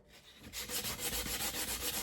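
Steady back-and-forth rubbing of 80-grit sandpaper on wood, a rhythmic rasping stroke repeating about every quarter second, close and fairly loud.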